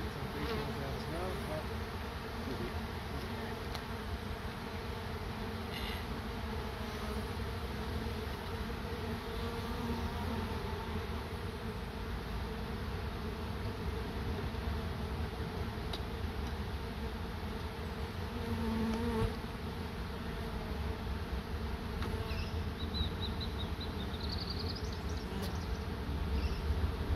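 A dense swarm of bees hums steadily throughout while a hive is moved out of a tree, the buzzing continuous and close with faint handling noises underneath.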